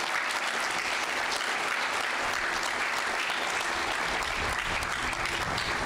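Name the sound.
audience applause for Sergeant Chakot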